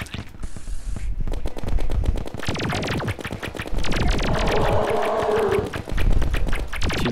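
Rapid, continuous weapon fire rattles in dense repeated bursts during a boss fight in the Terraria video game, loud and close with game effects layered in and no talking.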